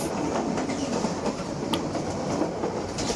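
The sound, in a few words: Sundarban Express train overtaking the waiting Sagardari Express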